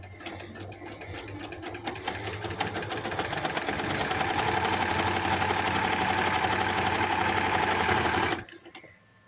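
A sewing machine runs steadily while stitching the seam of palazzo pants. It hums loud and continuous, building slightly, and stops abruptly near the end.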